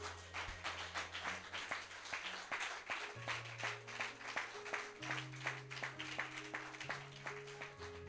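A church congregation claps and cheers as sustained organ or keyboard chords play, the applause a rapid, steady patter of many hands spread throughout.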